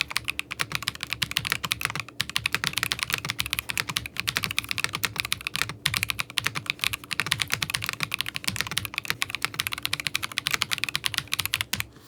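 Steady, rapid clacking of an ASUS ROG Strix Morph 96 Wireless mechanical keyboard being typed on, close and continuous, with no voices.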